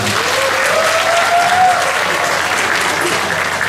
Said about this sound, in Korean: 준우한테 다시 한번 큰 박수 부탁드립니다.